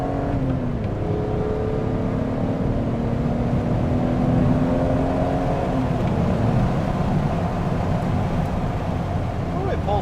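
A Dinan-tuned BMW E46 M3 accelerates hard from inside the car, its engine tone sweeping upward through the gears at a steady, loud level with road noise underneath.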